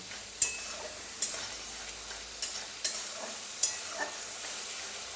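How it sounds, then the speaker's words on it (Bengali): Spice paste cooked down with water sizzles softly in a pan for chicken, broken by a regular series of light scraping clicks as a spoon stirs it; the sound is fairly quiet and has no talk. "জল দিয়ে মশলাটাকে খুব ভালো করে কষতে হবে, তেল ছাড়া অবধি"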